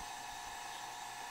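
A vacuum pump evacuating a car's A/C system, a steady, continuous mechanical whine and hum at moderate level with no talking.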